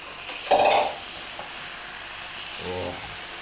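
Vegan food charring in a hot pan, giving a short loud sizzle burst followed by a quieter steady hiss of frying and a brief scrape of stirring.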